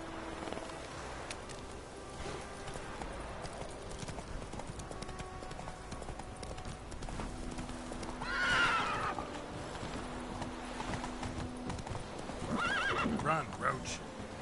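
A horse gallops with rapid clip-clop hoofbeats and lets out loud neighs and whinnies in The Witcher 3: Wild Hunt, the hooves steady throughout under game sounds.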